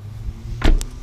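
Brief electric motor whir from the power seat of a 2014 Toyota Prius Plug-in as it returns to position, a short surge of near, moderate-level motor noise followed by a faint click, set against low cabin hum.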